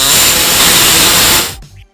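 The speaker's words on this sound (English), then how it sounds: "We're going to go ahead and open it up a little bit by using our air saw right here" An air-powered reciprocating saw notches the frame of a 1999 Chrysler Town and Country during a trailer hitch install, giving a loud, steady hissing buzz that runs nearly two seconds before cutting off abruptly.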